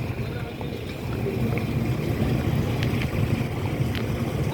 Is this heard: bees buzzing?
no